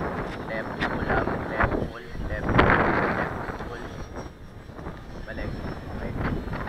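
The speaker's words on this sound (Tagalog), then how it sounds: "Malakas talaga ang hangin" Strong wind buffets the microphone at the maiden flight of a Bix 3 RC plane, in loud gusts that rise and fall, while people talk over it.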